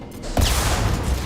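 A gunshot in Mass Effect 2, one sharp loud blast that gives way to a dense, rumbling burst of continued gunfire, close and alone without talk.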